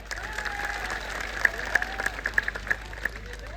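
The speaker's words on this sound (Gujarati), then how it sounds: "બધા માટે એકવાર જોરદાર તાળીઓ પાડી લો।" A crowd at an Aam Aadmi Party rally in Gujarat applauds, with scattered sharp claps building into a ragged patter over a steady background hum.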